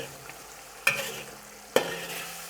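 Thick Beijing fried sauce for zha jiang mian being stirred and scraped in a wok, two sharp metallic scrapes over a low continuous sizzle.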